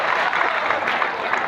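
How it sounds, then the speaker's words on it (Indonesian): Brief burst of dense applause from the audience at an anniversary gathering of Bugis people, steady clapping from many hands throughout. "Tepuk tanganlah untuk orang Bugis."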